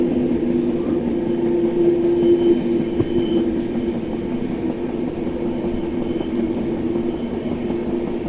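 The Ahmedabad Express runs steadily through a curving ghat section, a continuous close rumble of wheels and carriages with a droning hum and faint rhythmic clatter, no talk over it.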